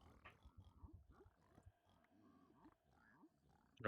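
Piglin grunts inside a Minecraft bastion, a run of short low snorting grunts repeating close by with game sound effects around them and a loud burst at the very end.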